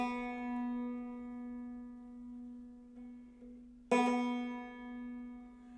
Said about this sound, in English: The 2nd string should sound like this.